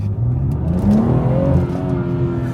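A BMW B58 with a VRSF catless downpipe pulls briefly under acceleration, its engine note climbing steadily in pitch, loud and close from inside the car.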